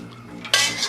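Metal lid of a home-brewing boil kettle handled, giving a sudden bright clank and scrape about halfway through after quiet faint rattles, close and loud, with no talking.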